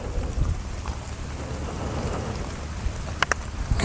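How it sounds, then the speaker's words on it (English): Steady rain falling outdoors on foggy off-road trails, a dense hiss of drops with a few sharper taps near the end, and no voices. "Sounds like it's raining."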